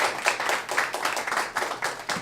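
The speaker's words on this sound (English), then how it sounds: "Give Tish a round of applause" Audience clapping for a performer at a one-year anniversary stage show, a short burst of brisk, fairly close hand claps with uneven rhythm.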